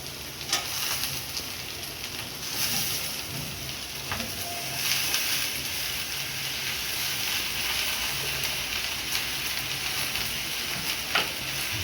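Malabar spinach drops into spiced oil with ground coriander in a pan, producing a steady close sizzle and crackle with occasional sharper pops, no talking over it.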